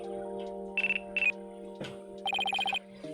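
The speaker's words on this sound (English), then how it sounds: "It looks like I have a phone call." A telephone rings in a video game, sounding as several short electronic trilling bursts over a steady, droning game background.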